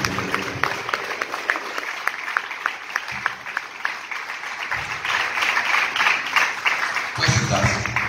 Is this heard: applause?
yes